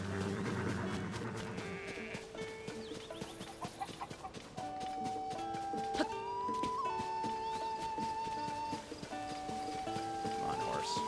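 Hooves of a horse in Zelda: Tears of the Kingdom trot in a rapid repeated clip-clop rhythm, layered with bleating animal calls and sustained musical tones from the game.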